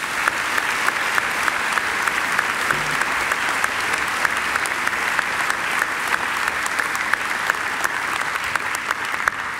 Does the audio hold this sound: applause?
yes